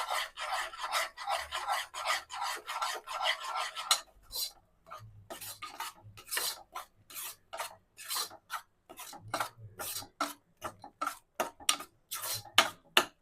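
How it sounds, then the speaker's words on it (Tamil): Onions being mixed by hand or spoon with chili powder and salt for a homemade onion pickle, a dense rubbing, rasping scrape that runs steadily at first, then breaks into repeated short strokes, close and alone. "அந்த மிளகாத்தூள்லாம் சேர்த்து வெங்காயம்லாம் நல்லா மிக்ஸ் பண்ணி விடணும் நம்ம"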